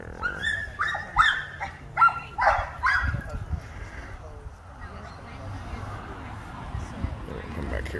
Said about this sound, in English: there's the hound dog that I like. When he barks, it's just so cool. It's got that deep bark.